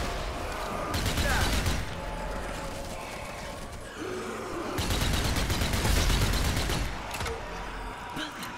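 A gun fires in the zombie shooter Zombie Army 4, with loud bursts of rapid shots in several volleys separated by short pauses and a faint breathy voice in between.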